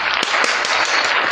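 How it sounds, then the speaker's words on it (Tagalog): A crowd claps for a person, a dense, even patter of many hands with a few sharper individual claps popping out at regular intervals, loud and close throughout. "Palakpak namin siya."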